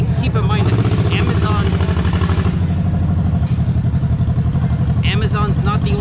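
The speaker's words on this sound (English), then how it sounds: "Got a real noisy motorcycle going by." A loud, rattling motorcycle roars nearby and fades slightly as it passes, while a person keeps talking over it.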